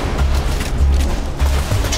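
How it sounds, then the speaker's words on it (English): Gunfire and explosions from a cooperative Borderlands 2 match, a loud, dense, continuous barrage of rapid shots with deep booms rumbling underneath, no voices. "Explosions."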